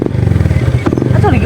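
A motorcycle engine chugs steadily and close by in a fast, even pulsing rhythm, with a voice talking over it.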